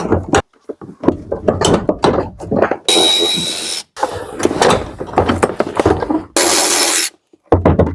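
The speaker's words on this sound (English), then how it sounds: "For a quarter ratchet, that thing is a beast." A Milwaukee quarter-inch cordless ratchet removes car seat bolts in a Scion xB, loud and close, with several sustained whirring runs between clanks and handling noises.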